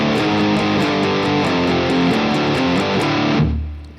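Heavily distorted electric guitar in drop D churns out a metal riff on the two low open strings, a fast chugging pattern of alternate-picked notes played loud and close for about three seconds before being cut off abruptly.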